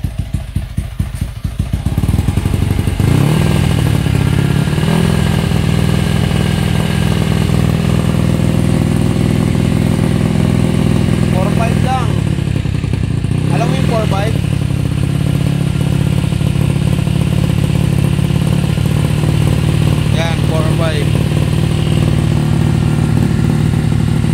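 Motorcycle fitted with a Replica Pro silent exhaust pipe, revved and held around 4500 RPM, measured from one meter away: a loud, steady engine drone that fills the whole stretch, with a brief dip and swell partway through.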